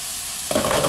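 Steak cooks in a pan for stir-fry, a quiet hiss that suddenly flares into a loud, bright sizzle halfway through, with no talking.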